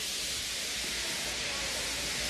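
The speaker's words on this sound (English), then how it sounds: "He just let off steam feebly." A tired steam locomotive lets off a feeble, steady hiss of steam at a station, a continuous soft broadband rush with no talk.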